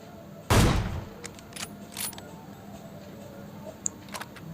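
A single loud gunshot from the video game PUBG Mobile cracks close and sharp, followed by faint, scattered clicks and small distant shots over a quiet game background.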